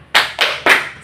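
Three sharp hand claps land in quick, even succession, close and crisp, with no voices.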